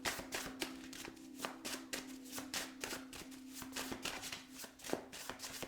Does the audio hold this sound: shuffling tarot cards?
yes